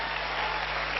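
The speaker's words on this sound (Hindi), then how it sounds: "सबसे पहले तो कंपनी के लिए सबसे जबरदस्त वाली ताली बनती है भाई" Audience applause for the company at a Safe Shop motivational seminar: a dense, steady wash of many hands clapping, loud and continuous throughout.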